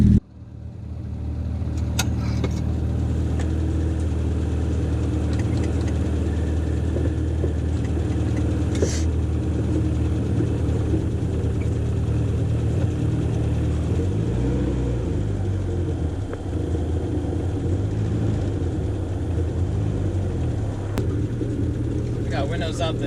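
A Triumph Spitfire fitted with a new distributor drives along with its engine humming in a steady low drone, smooth and even with no misfire, the cabin rumble continuous throughout.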